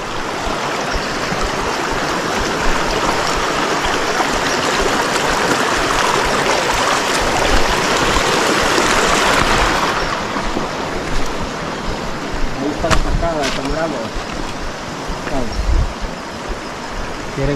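River water rushing past a small boat heading upstream on the Río Quezalapa near Suchitoto, a constant loud wash of flowing water and engine-like rumble, with brief voices toward the end.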